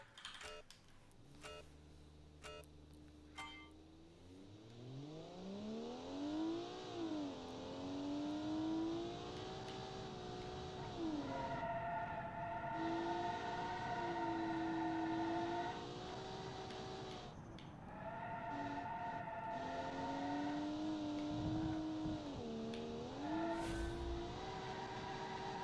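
A 3.7 liter turbo straight six race car engine in a 1998 sports sedan race revs up from idle and screams through repeated gear changes, a loud engine note rising and dipping with no speech.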